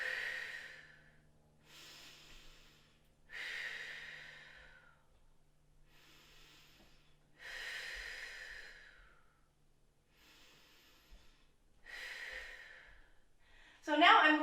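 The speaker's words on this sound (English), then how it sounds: "just take some deep breaths" Slow, deep breaths during a hip stretch, close to the microphone, with several long inhales and exhales in a regular rhythm separated by short quiet gaps, and a brief louder rustle at the end.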